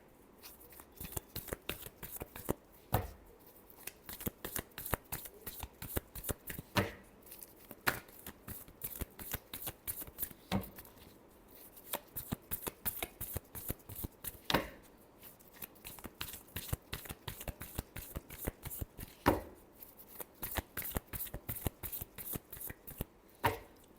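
Tarot cards being shuffled by hand in a long series of quick, crisp riffling bursts with short pauses between, close and fairly quiet, with no voices.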